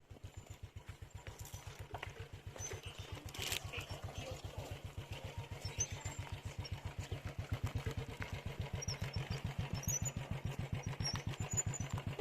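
Motorcycles idling with a rapid, even engine putter, pushed down a slope before a trek to Pari Taal near Nainital, Uttarakhand; the close, steady thumping runs throughout with faint voices in the background.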